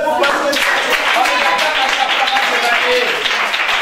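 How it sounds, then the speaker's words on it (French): Lively clapping and applause from a crowd at a children's Christmas charity gathering, dense and continuous, fairly loud and close, with voices faintly mixed in underneath. "Applaudissez pour Pasteur"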